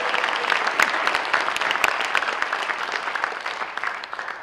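Audience applause for an event's organizing team, a dense, steady clapping that fills the room and fades slightly toward the end, with no talk over it.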